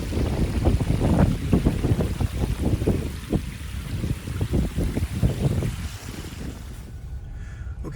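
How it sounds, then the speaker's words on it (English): Waterfall outside a shopping mall beside a colorful sculpture, a steady close rush of splashing water with low rumble running throughout, easing off near the end. "Waterfall."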